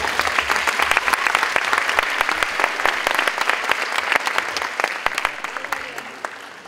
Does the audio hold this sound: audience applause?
yes